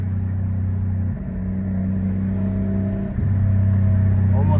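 The cabin of a turbocharged, 1JZ-swapped Lexus IS300 fills with a steady engine drone and a whirring turbo spool that rises in two steps, loud and close, with no talking.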